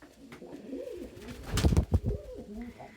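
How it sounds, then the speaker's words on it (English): A pet companion bird gives soft, low cooing calls amid quiet indoor rustling, with a brief burst of fluttering or scuffling near the middle. "this is why I say that Indica will make a decent companion bird"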